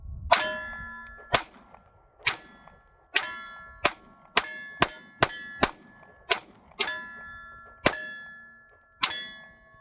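A Walther PDP-F pistol fires at steel targets outdoors, about a dozen sharp shots each followed by a ringing metallic clang, spaced irregularly at roughly one-second intervals, no talking.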